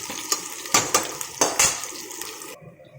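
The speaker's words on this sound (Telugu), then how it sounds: "ఇలాగ స్పైసెస్ అన్ని వేసి పచ్చిమిర్చి వేసి కలుపుకోవాలి. గోల్డ్ కలర్లో వచ్చే వరకు మనము కలుపుతూ ఉండాలి." Onions frying with spices and green chilies for a restaurant-style biryani, stirred in a pan with a utensil, giving several close scraping clatters over a steady sizzle before the sound cuts off, with no talking.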